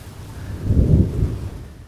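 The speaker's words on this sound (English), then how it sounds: "Thunder." Thunder rumbling through a low, muffled swell that rises and fades over about a second, moderately loud with no speech.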